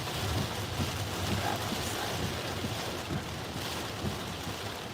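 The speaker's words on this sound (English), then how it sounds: "The rain is just coming down in such sheets, and then the semi is just blasting with it." Heavy rain pours down in sheets while driving on a highway, a dense, steady roar of water hitting the car with low rumbling road noise underneath and passing spray, loud and continuous.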